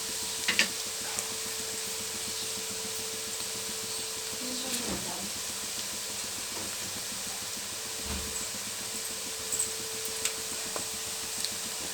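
Onions frying in a pan for a Telugu fish curry, a steady moderate sizzle and hiss with occasional clinks and stirring scrapes, continuous throughout.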